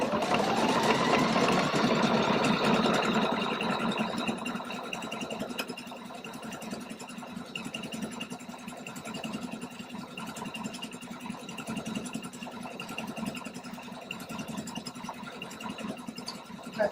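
A Pfaff Quilt Expression 720 sewing machine stitches out decorative stitches with a steady, close mechanical hum. It is louder for the first few seconds, then runs on evenly with no talking.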